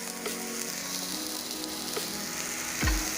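Water poured into a hot wok hisses and sizzles steadily up close, ending in a low thump near the end; no talking.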